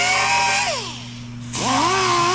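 Power-driven scuff pad working over Buick 455 valve covers for a 1970 Wildcat, a steady motor whine that winds down, dips quiet for a moment, then revs back up under a gritty abrasive hiss.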